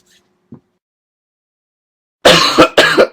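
Two loud, harsh coughs close by, one right after the other, following a near-silent stretch with a faint soft knock.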